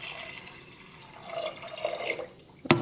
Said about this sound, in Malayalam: ഇതിലേക്ക് വെള്ളം ചേർക്കാം.